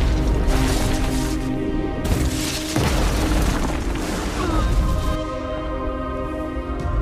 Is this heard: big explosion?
yes